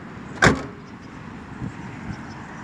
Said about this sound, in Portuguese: Vamos abrir o porta-mala agora para poder